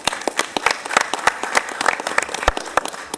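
Applause from the audience at a Charlotte city council meeting, a dense patter of many hands clapping steadily for about three seconds, with a few sharper individual claps standing out.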